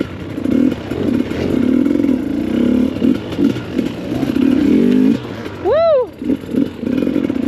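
A dirt bike engine revs hard while riding, loud and close with choppy throttle bursts and one sharp rising rev near the end, plus a brief shout from the rider.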